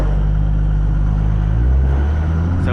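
A 12-valve diesel truck on a race tune rolls into acceleration, a loud, close, steady low rumble whose engine drone climbs slightly in pitch toward the end, with no talking.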